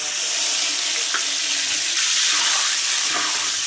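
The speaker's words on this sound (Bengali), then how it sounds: "এবার আমি একটু জল দিয়ে দেবো।" Water poured into a pan of fried spice paste, giving a steady rushing splash and hiss that holds evenly throughout, close up with no talk.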